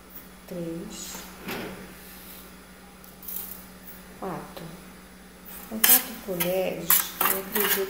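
Metal spoons clink against a pot or bowl as spoonfuls of sugar go into milk for doce de leite coalhado, with scattered close clatters and a louder burst of tapping near the end. A voice talks at moments between the clinks.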